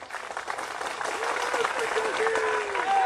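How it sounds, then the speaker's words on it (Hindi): A crowd at an outdoor election rally in Pratapgarh, Uttar Pradesh, claps steadily for a few seconds, the applause building slightly, with voices mixed into the dense clapping. "ताली बजा रहे हो, अच्छी बात है"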